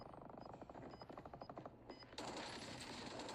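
Rapid automatic AK rifle fire in a video game, a fast rattling burst of shots followed by a denser, louder stretch of gunfire.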